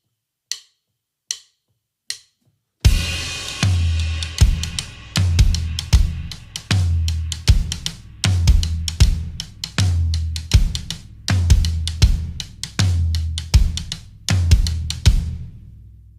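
A drum kit plays the first chorus, opening with three sharp sticks clicks as a count-in. Then comes a steady, loud groove of kick, snare and cymbal hits in a repeating pattern, with no voices.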